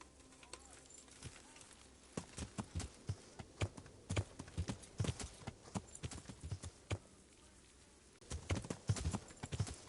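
Horse hooves clip-clop in Kingdom Come Deliverance, an uneven walking rhythm of crisp, close hoof strikes that pause briefly before resuming.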